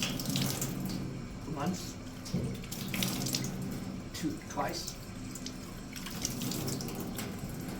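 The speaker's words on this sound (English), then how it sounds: "So while washing your face after cupping water in your hands, make sure that the earlobes are wet" Tap water runs steadily into a sink during wudu, with soft splashes as water is cupped in the hands and brought to the face; someone speaks over the flow.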